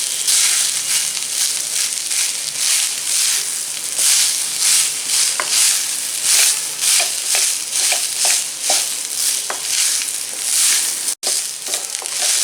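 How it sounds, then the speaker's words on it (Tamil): Cooked rice being stirred and tossed in a pan over medium heat for temple-style sesame rice, a steady close sizzle and hiss with repeated scraping strokes and light clinks throughout, no talking. "வடித்த சாதத்தை சேர்த்துக்கலாம். மிதமான தீயில வச்சு நல்லா வந்து கலந்து விட்டுக்கலாம்."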